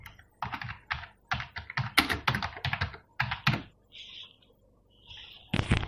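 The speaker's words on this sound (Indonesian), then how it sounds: "lalu di sel E kita ketik" Close, crisp typing on a computer keyboard entering data into an Excel spreadsheet, a rapid run of keystrokes that pauses and then resumes with a final burst.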